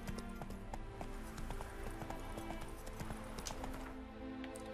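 Hooves clip-clop at a steady galloping rhythm in the video game The Witcher 3: Wild Hunt, with a brief whinny over a dense, continuous game soundscape, faint and even throughout.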